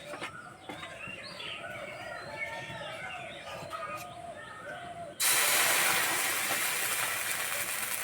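Semolina batter hits a hot oiled pan and bursts into a loud, steady sizzle, following a quieter stretch of background kitchen noise.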